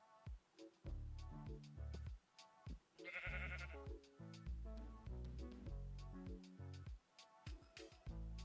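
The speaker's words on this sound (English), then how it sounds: "sheep above my head" Blocky Minecraft sheep bleat in repeated short calls against the game's clinking and digging sounds, with a few bleats overlapping and varying in loudness.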